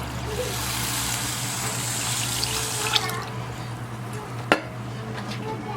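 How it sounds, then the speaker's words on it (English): Water runs and splashes continuously into a vessel of basmati rice set to soak, then stops with a soft knock and a faint clink near the end. "We're gonna add some water."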